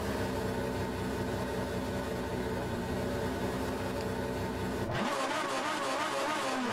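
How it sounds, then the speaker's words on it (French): A car engine in a racing video game revs steadily to very high rpm, loud and continuous, then the pitch jumps sharply as it climbs further near the end, with no talking. "Le moteur qui prend des tours à n'en plus finir."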